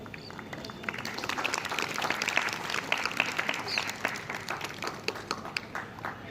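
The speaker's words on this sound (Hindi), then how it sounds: "आप लोग ताली बजा करके सबका उत्साहवर्धन करते रहें" Audience applause at a school Hindi fortnight prize-distribution ceremony, a steady wash of many hands clapping for several seconds at moderate volume, with a slight swell in the middle.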